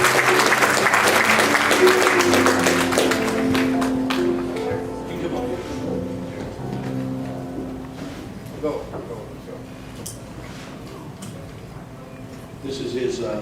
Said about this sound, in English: Why don't you give a round of applause?